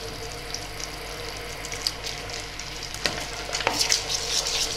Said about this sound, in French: Donc là je commence à mélanger tout en regardant bien si le sucre colore ou pas.